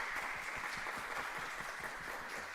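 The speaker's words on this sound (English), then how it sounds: "let's do a big applause to Jan." Lecture audience applauds the speaker after a university talk on brains and computers, a steady dense patter of clapping, fairly faint and distant, lasting a few seconds with no talk.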